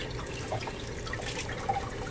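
Beer poured over live Dungeness crabs gives a steady, fairly quiet splashing trickle of liquid that runs without a break, with a few brighter drips standing out.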